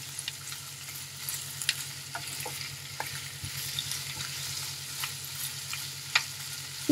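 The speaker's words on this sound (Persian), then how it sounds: "کمی تفت بدیم تا رنگ جگر تغییر بکنه" Liver sautéing in a pan over medium heat, a steady fine sizzle with occasional sharper pops and stirring clicks, close and continuous without any voices.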